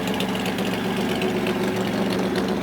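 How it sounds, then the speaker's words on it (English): Steady V6 idle from a 1992 Plymouth Duster, a smooth continuous rumble with a slightly raspy upper edge, close and even throughout with no talking. "Got a sweet sounding idle. A little raspy up high, but it's a V6."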